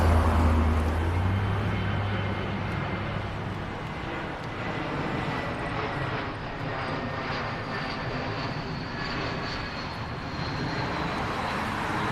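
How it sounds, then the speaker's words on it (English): Fixed-wing airplane passing over a wooded park trail, a steady broad engine roar that stays fairly loud throughout, with a low rumble fading early on. "You hear the plane?"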